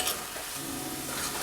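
Mutton curry fries in a pan while being stirred, a brief burst of steady sizzling with scraping from the stirring.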